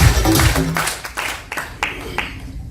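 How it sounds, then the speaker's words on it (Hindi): Audience clapping at a crown diamond celebration event in Pune, a dense burst of applause at the start that thins into scattered claps and fades over a few seconds. "उनके लिए भी एक बार दिल से जोरदार ताली होनी चाहिए"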